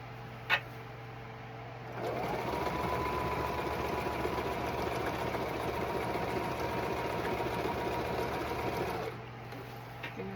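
A freshly oiled sewing machine with a new needle stitches black striped pant fabric, running in one smooth, steady hum for about seven seconds, then stopping, with quiet pauses before and after.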